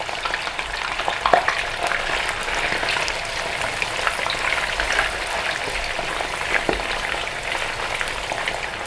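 Steady crackling sizzle of chicken frying briefly in hot oil for rica rica, continuous and fairly close, with occasional louder pops and stirring clatter.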